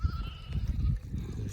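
Sheep bleat during lambing season on an open hillside, a brief, faint call heard through heavy wind rumble.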